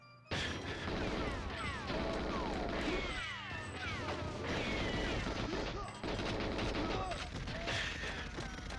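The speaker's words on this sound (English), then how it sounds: "Who else is shooting at me?" GoldenEye 007 on the N64: dense, loud automatic gunfire with sharp crackling bursts and clattering impacts runs almost without a break, pausing briefly a couple of times.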